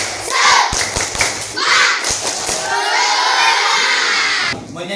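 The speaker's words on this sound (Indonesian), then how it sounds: "Tepuk semangat." Schoolchildren in a classroom do a rhythmic spirit clap, with sharp group claps and thumps in a quick pattern, then shouting and cheering voices as a loud, close crowd.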